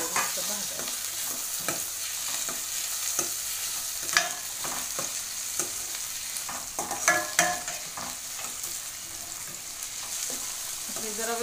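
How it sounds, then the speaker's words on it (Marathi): Tomatoes frying in a pan, a continuous moderate sizzle broken by irregular scraping stirs and light clinks of a utensil against the metal. "मिनटं परतल्यानंतर टमॅटो टाकून घ्यायचं. टमॅटो चांगला असं मऊ भाजायचं."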